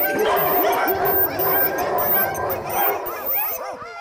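Several dogs at a dog pound bark, yip and whimper excitedly in a continuous, overlapping chorus at moderate distance.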